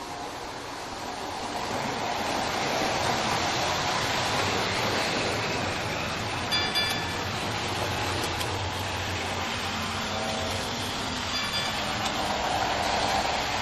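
A small train rumbling steadily along its track, a continuous rolling clatter that swells in after a quiet start and keeps going, with faint metallic squeals.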